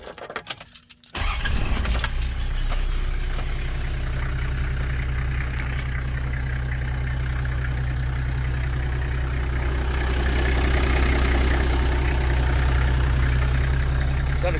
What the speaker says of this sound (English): let's crank over that diesel engine.